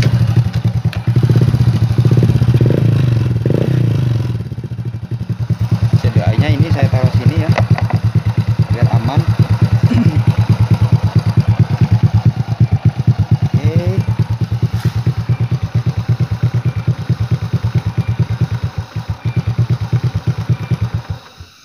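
A Honda Supra Fit motorcycle, just repaired after stalling from rain or washing, is started and settles into a steady, close idle. The loud engine runs through the whole stretch, with some talk over the opening seconds.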